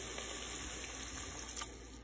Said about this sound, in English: So I'm adding 1/2 cup of water.